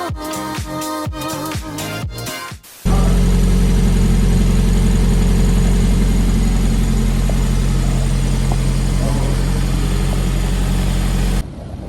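A Toyota MR-S engine runs steadily for about nine seconds, a loud, even idle-like drone close to the listener. It comes in abruptly after a few seconds of music and cuts off near the end.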